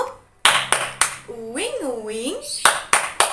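Sharp hand claps in a children's mosquito clapping game, a few quick claps, then a sung buzzing imitation of a mosquito's whine, then more rhythmic claps, close and clear.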